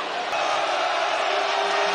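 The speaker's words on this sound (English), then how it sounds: "And the crowd senses it." A steady roar from the crowd at an Auburn college basketball game fills the arena, loud and continuous throughout with no break.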